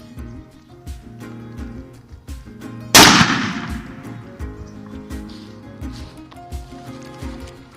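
A Remington 870 shotgun fires a Longbeard shot shell outdoors at a range: one loud, sharp blast with a ringing decay, set among lighter clicks and taps before and after.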